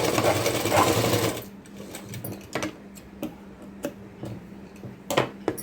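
After a loud opening burst, a regular household sewing machine stitches an embroidery design, its steady needle ticking and motor whir running close and moderately loud, broken by short pauses.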